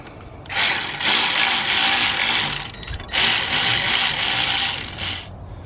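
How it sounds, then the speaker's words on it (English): Brake caliper slide bolts being tightened on a BMW rear brake, heard as two long bursts of close, loud, buzzing ratchet clicking separated by a short pause, with no talking. "Tighten down the bolts."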